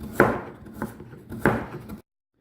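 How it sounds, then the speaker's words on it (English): A knife slices through carrots on a cutting board: two sharp, close chops with lighter taps between them, then silence. "I just sliced up all the carrots"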